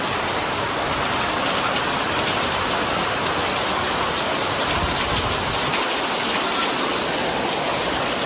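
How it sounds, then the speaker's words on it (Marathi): Heavy rain pours down in a dense, unbroken hiss, loud and close, with no voices. "पाऊस काय दिवसभर थांबणारच नाही"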